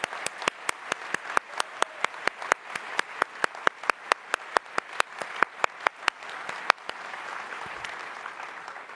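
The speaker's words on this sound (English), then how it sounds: "Let's take a moment to applaud our Imperial Valley colleagues for this important achievement" Audience applause for Imperial Valley college colleagues, heard as a steady series of loud, evenly spaced claps that swell into a fuller, sustained round of clapping near the end.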